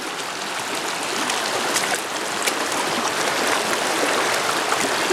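River water rushing through the Narrows in Zion, a steady broadband hiss of flowing current, close and continuous with no voices.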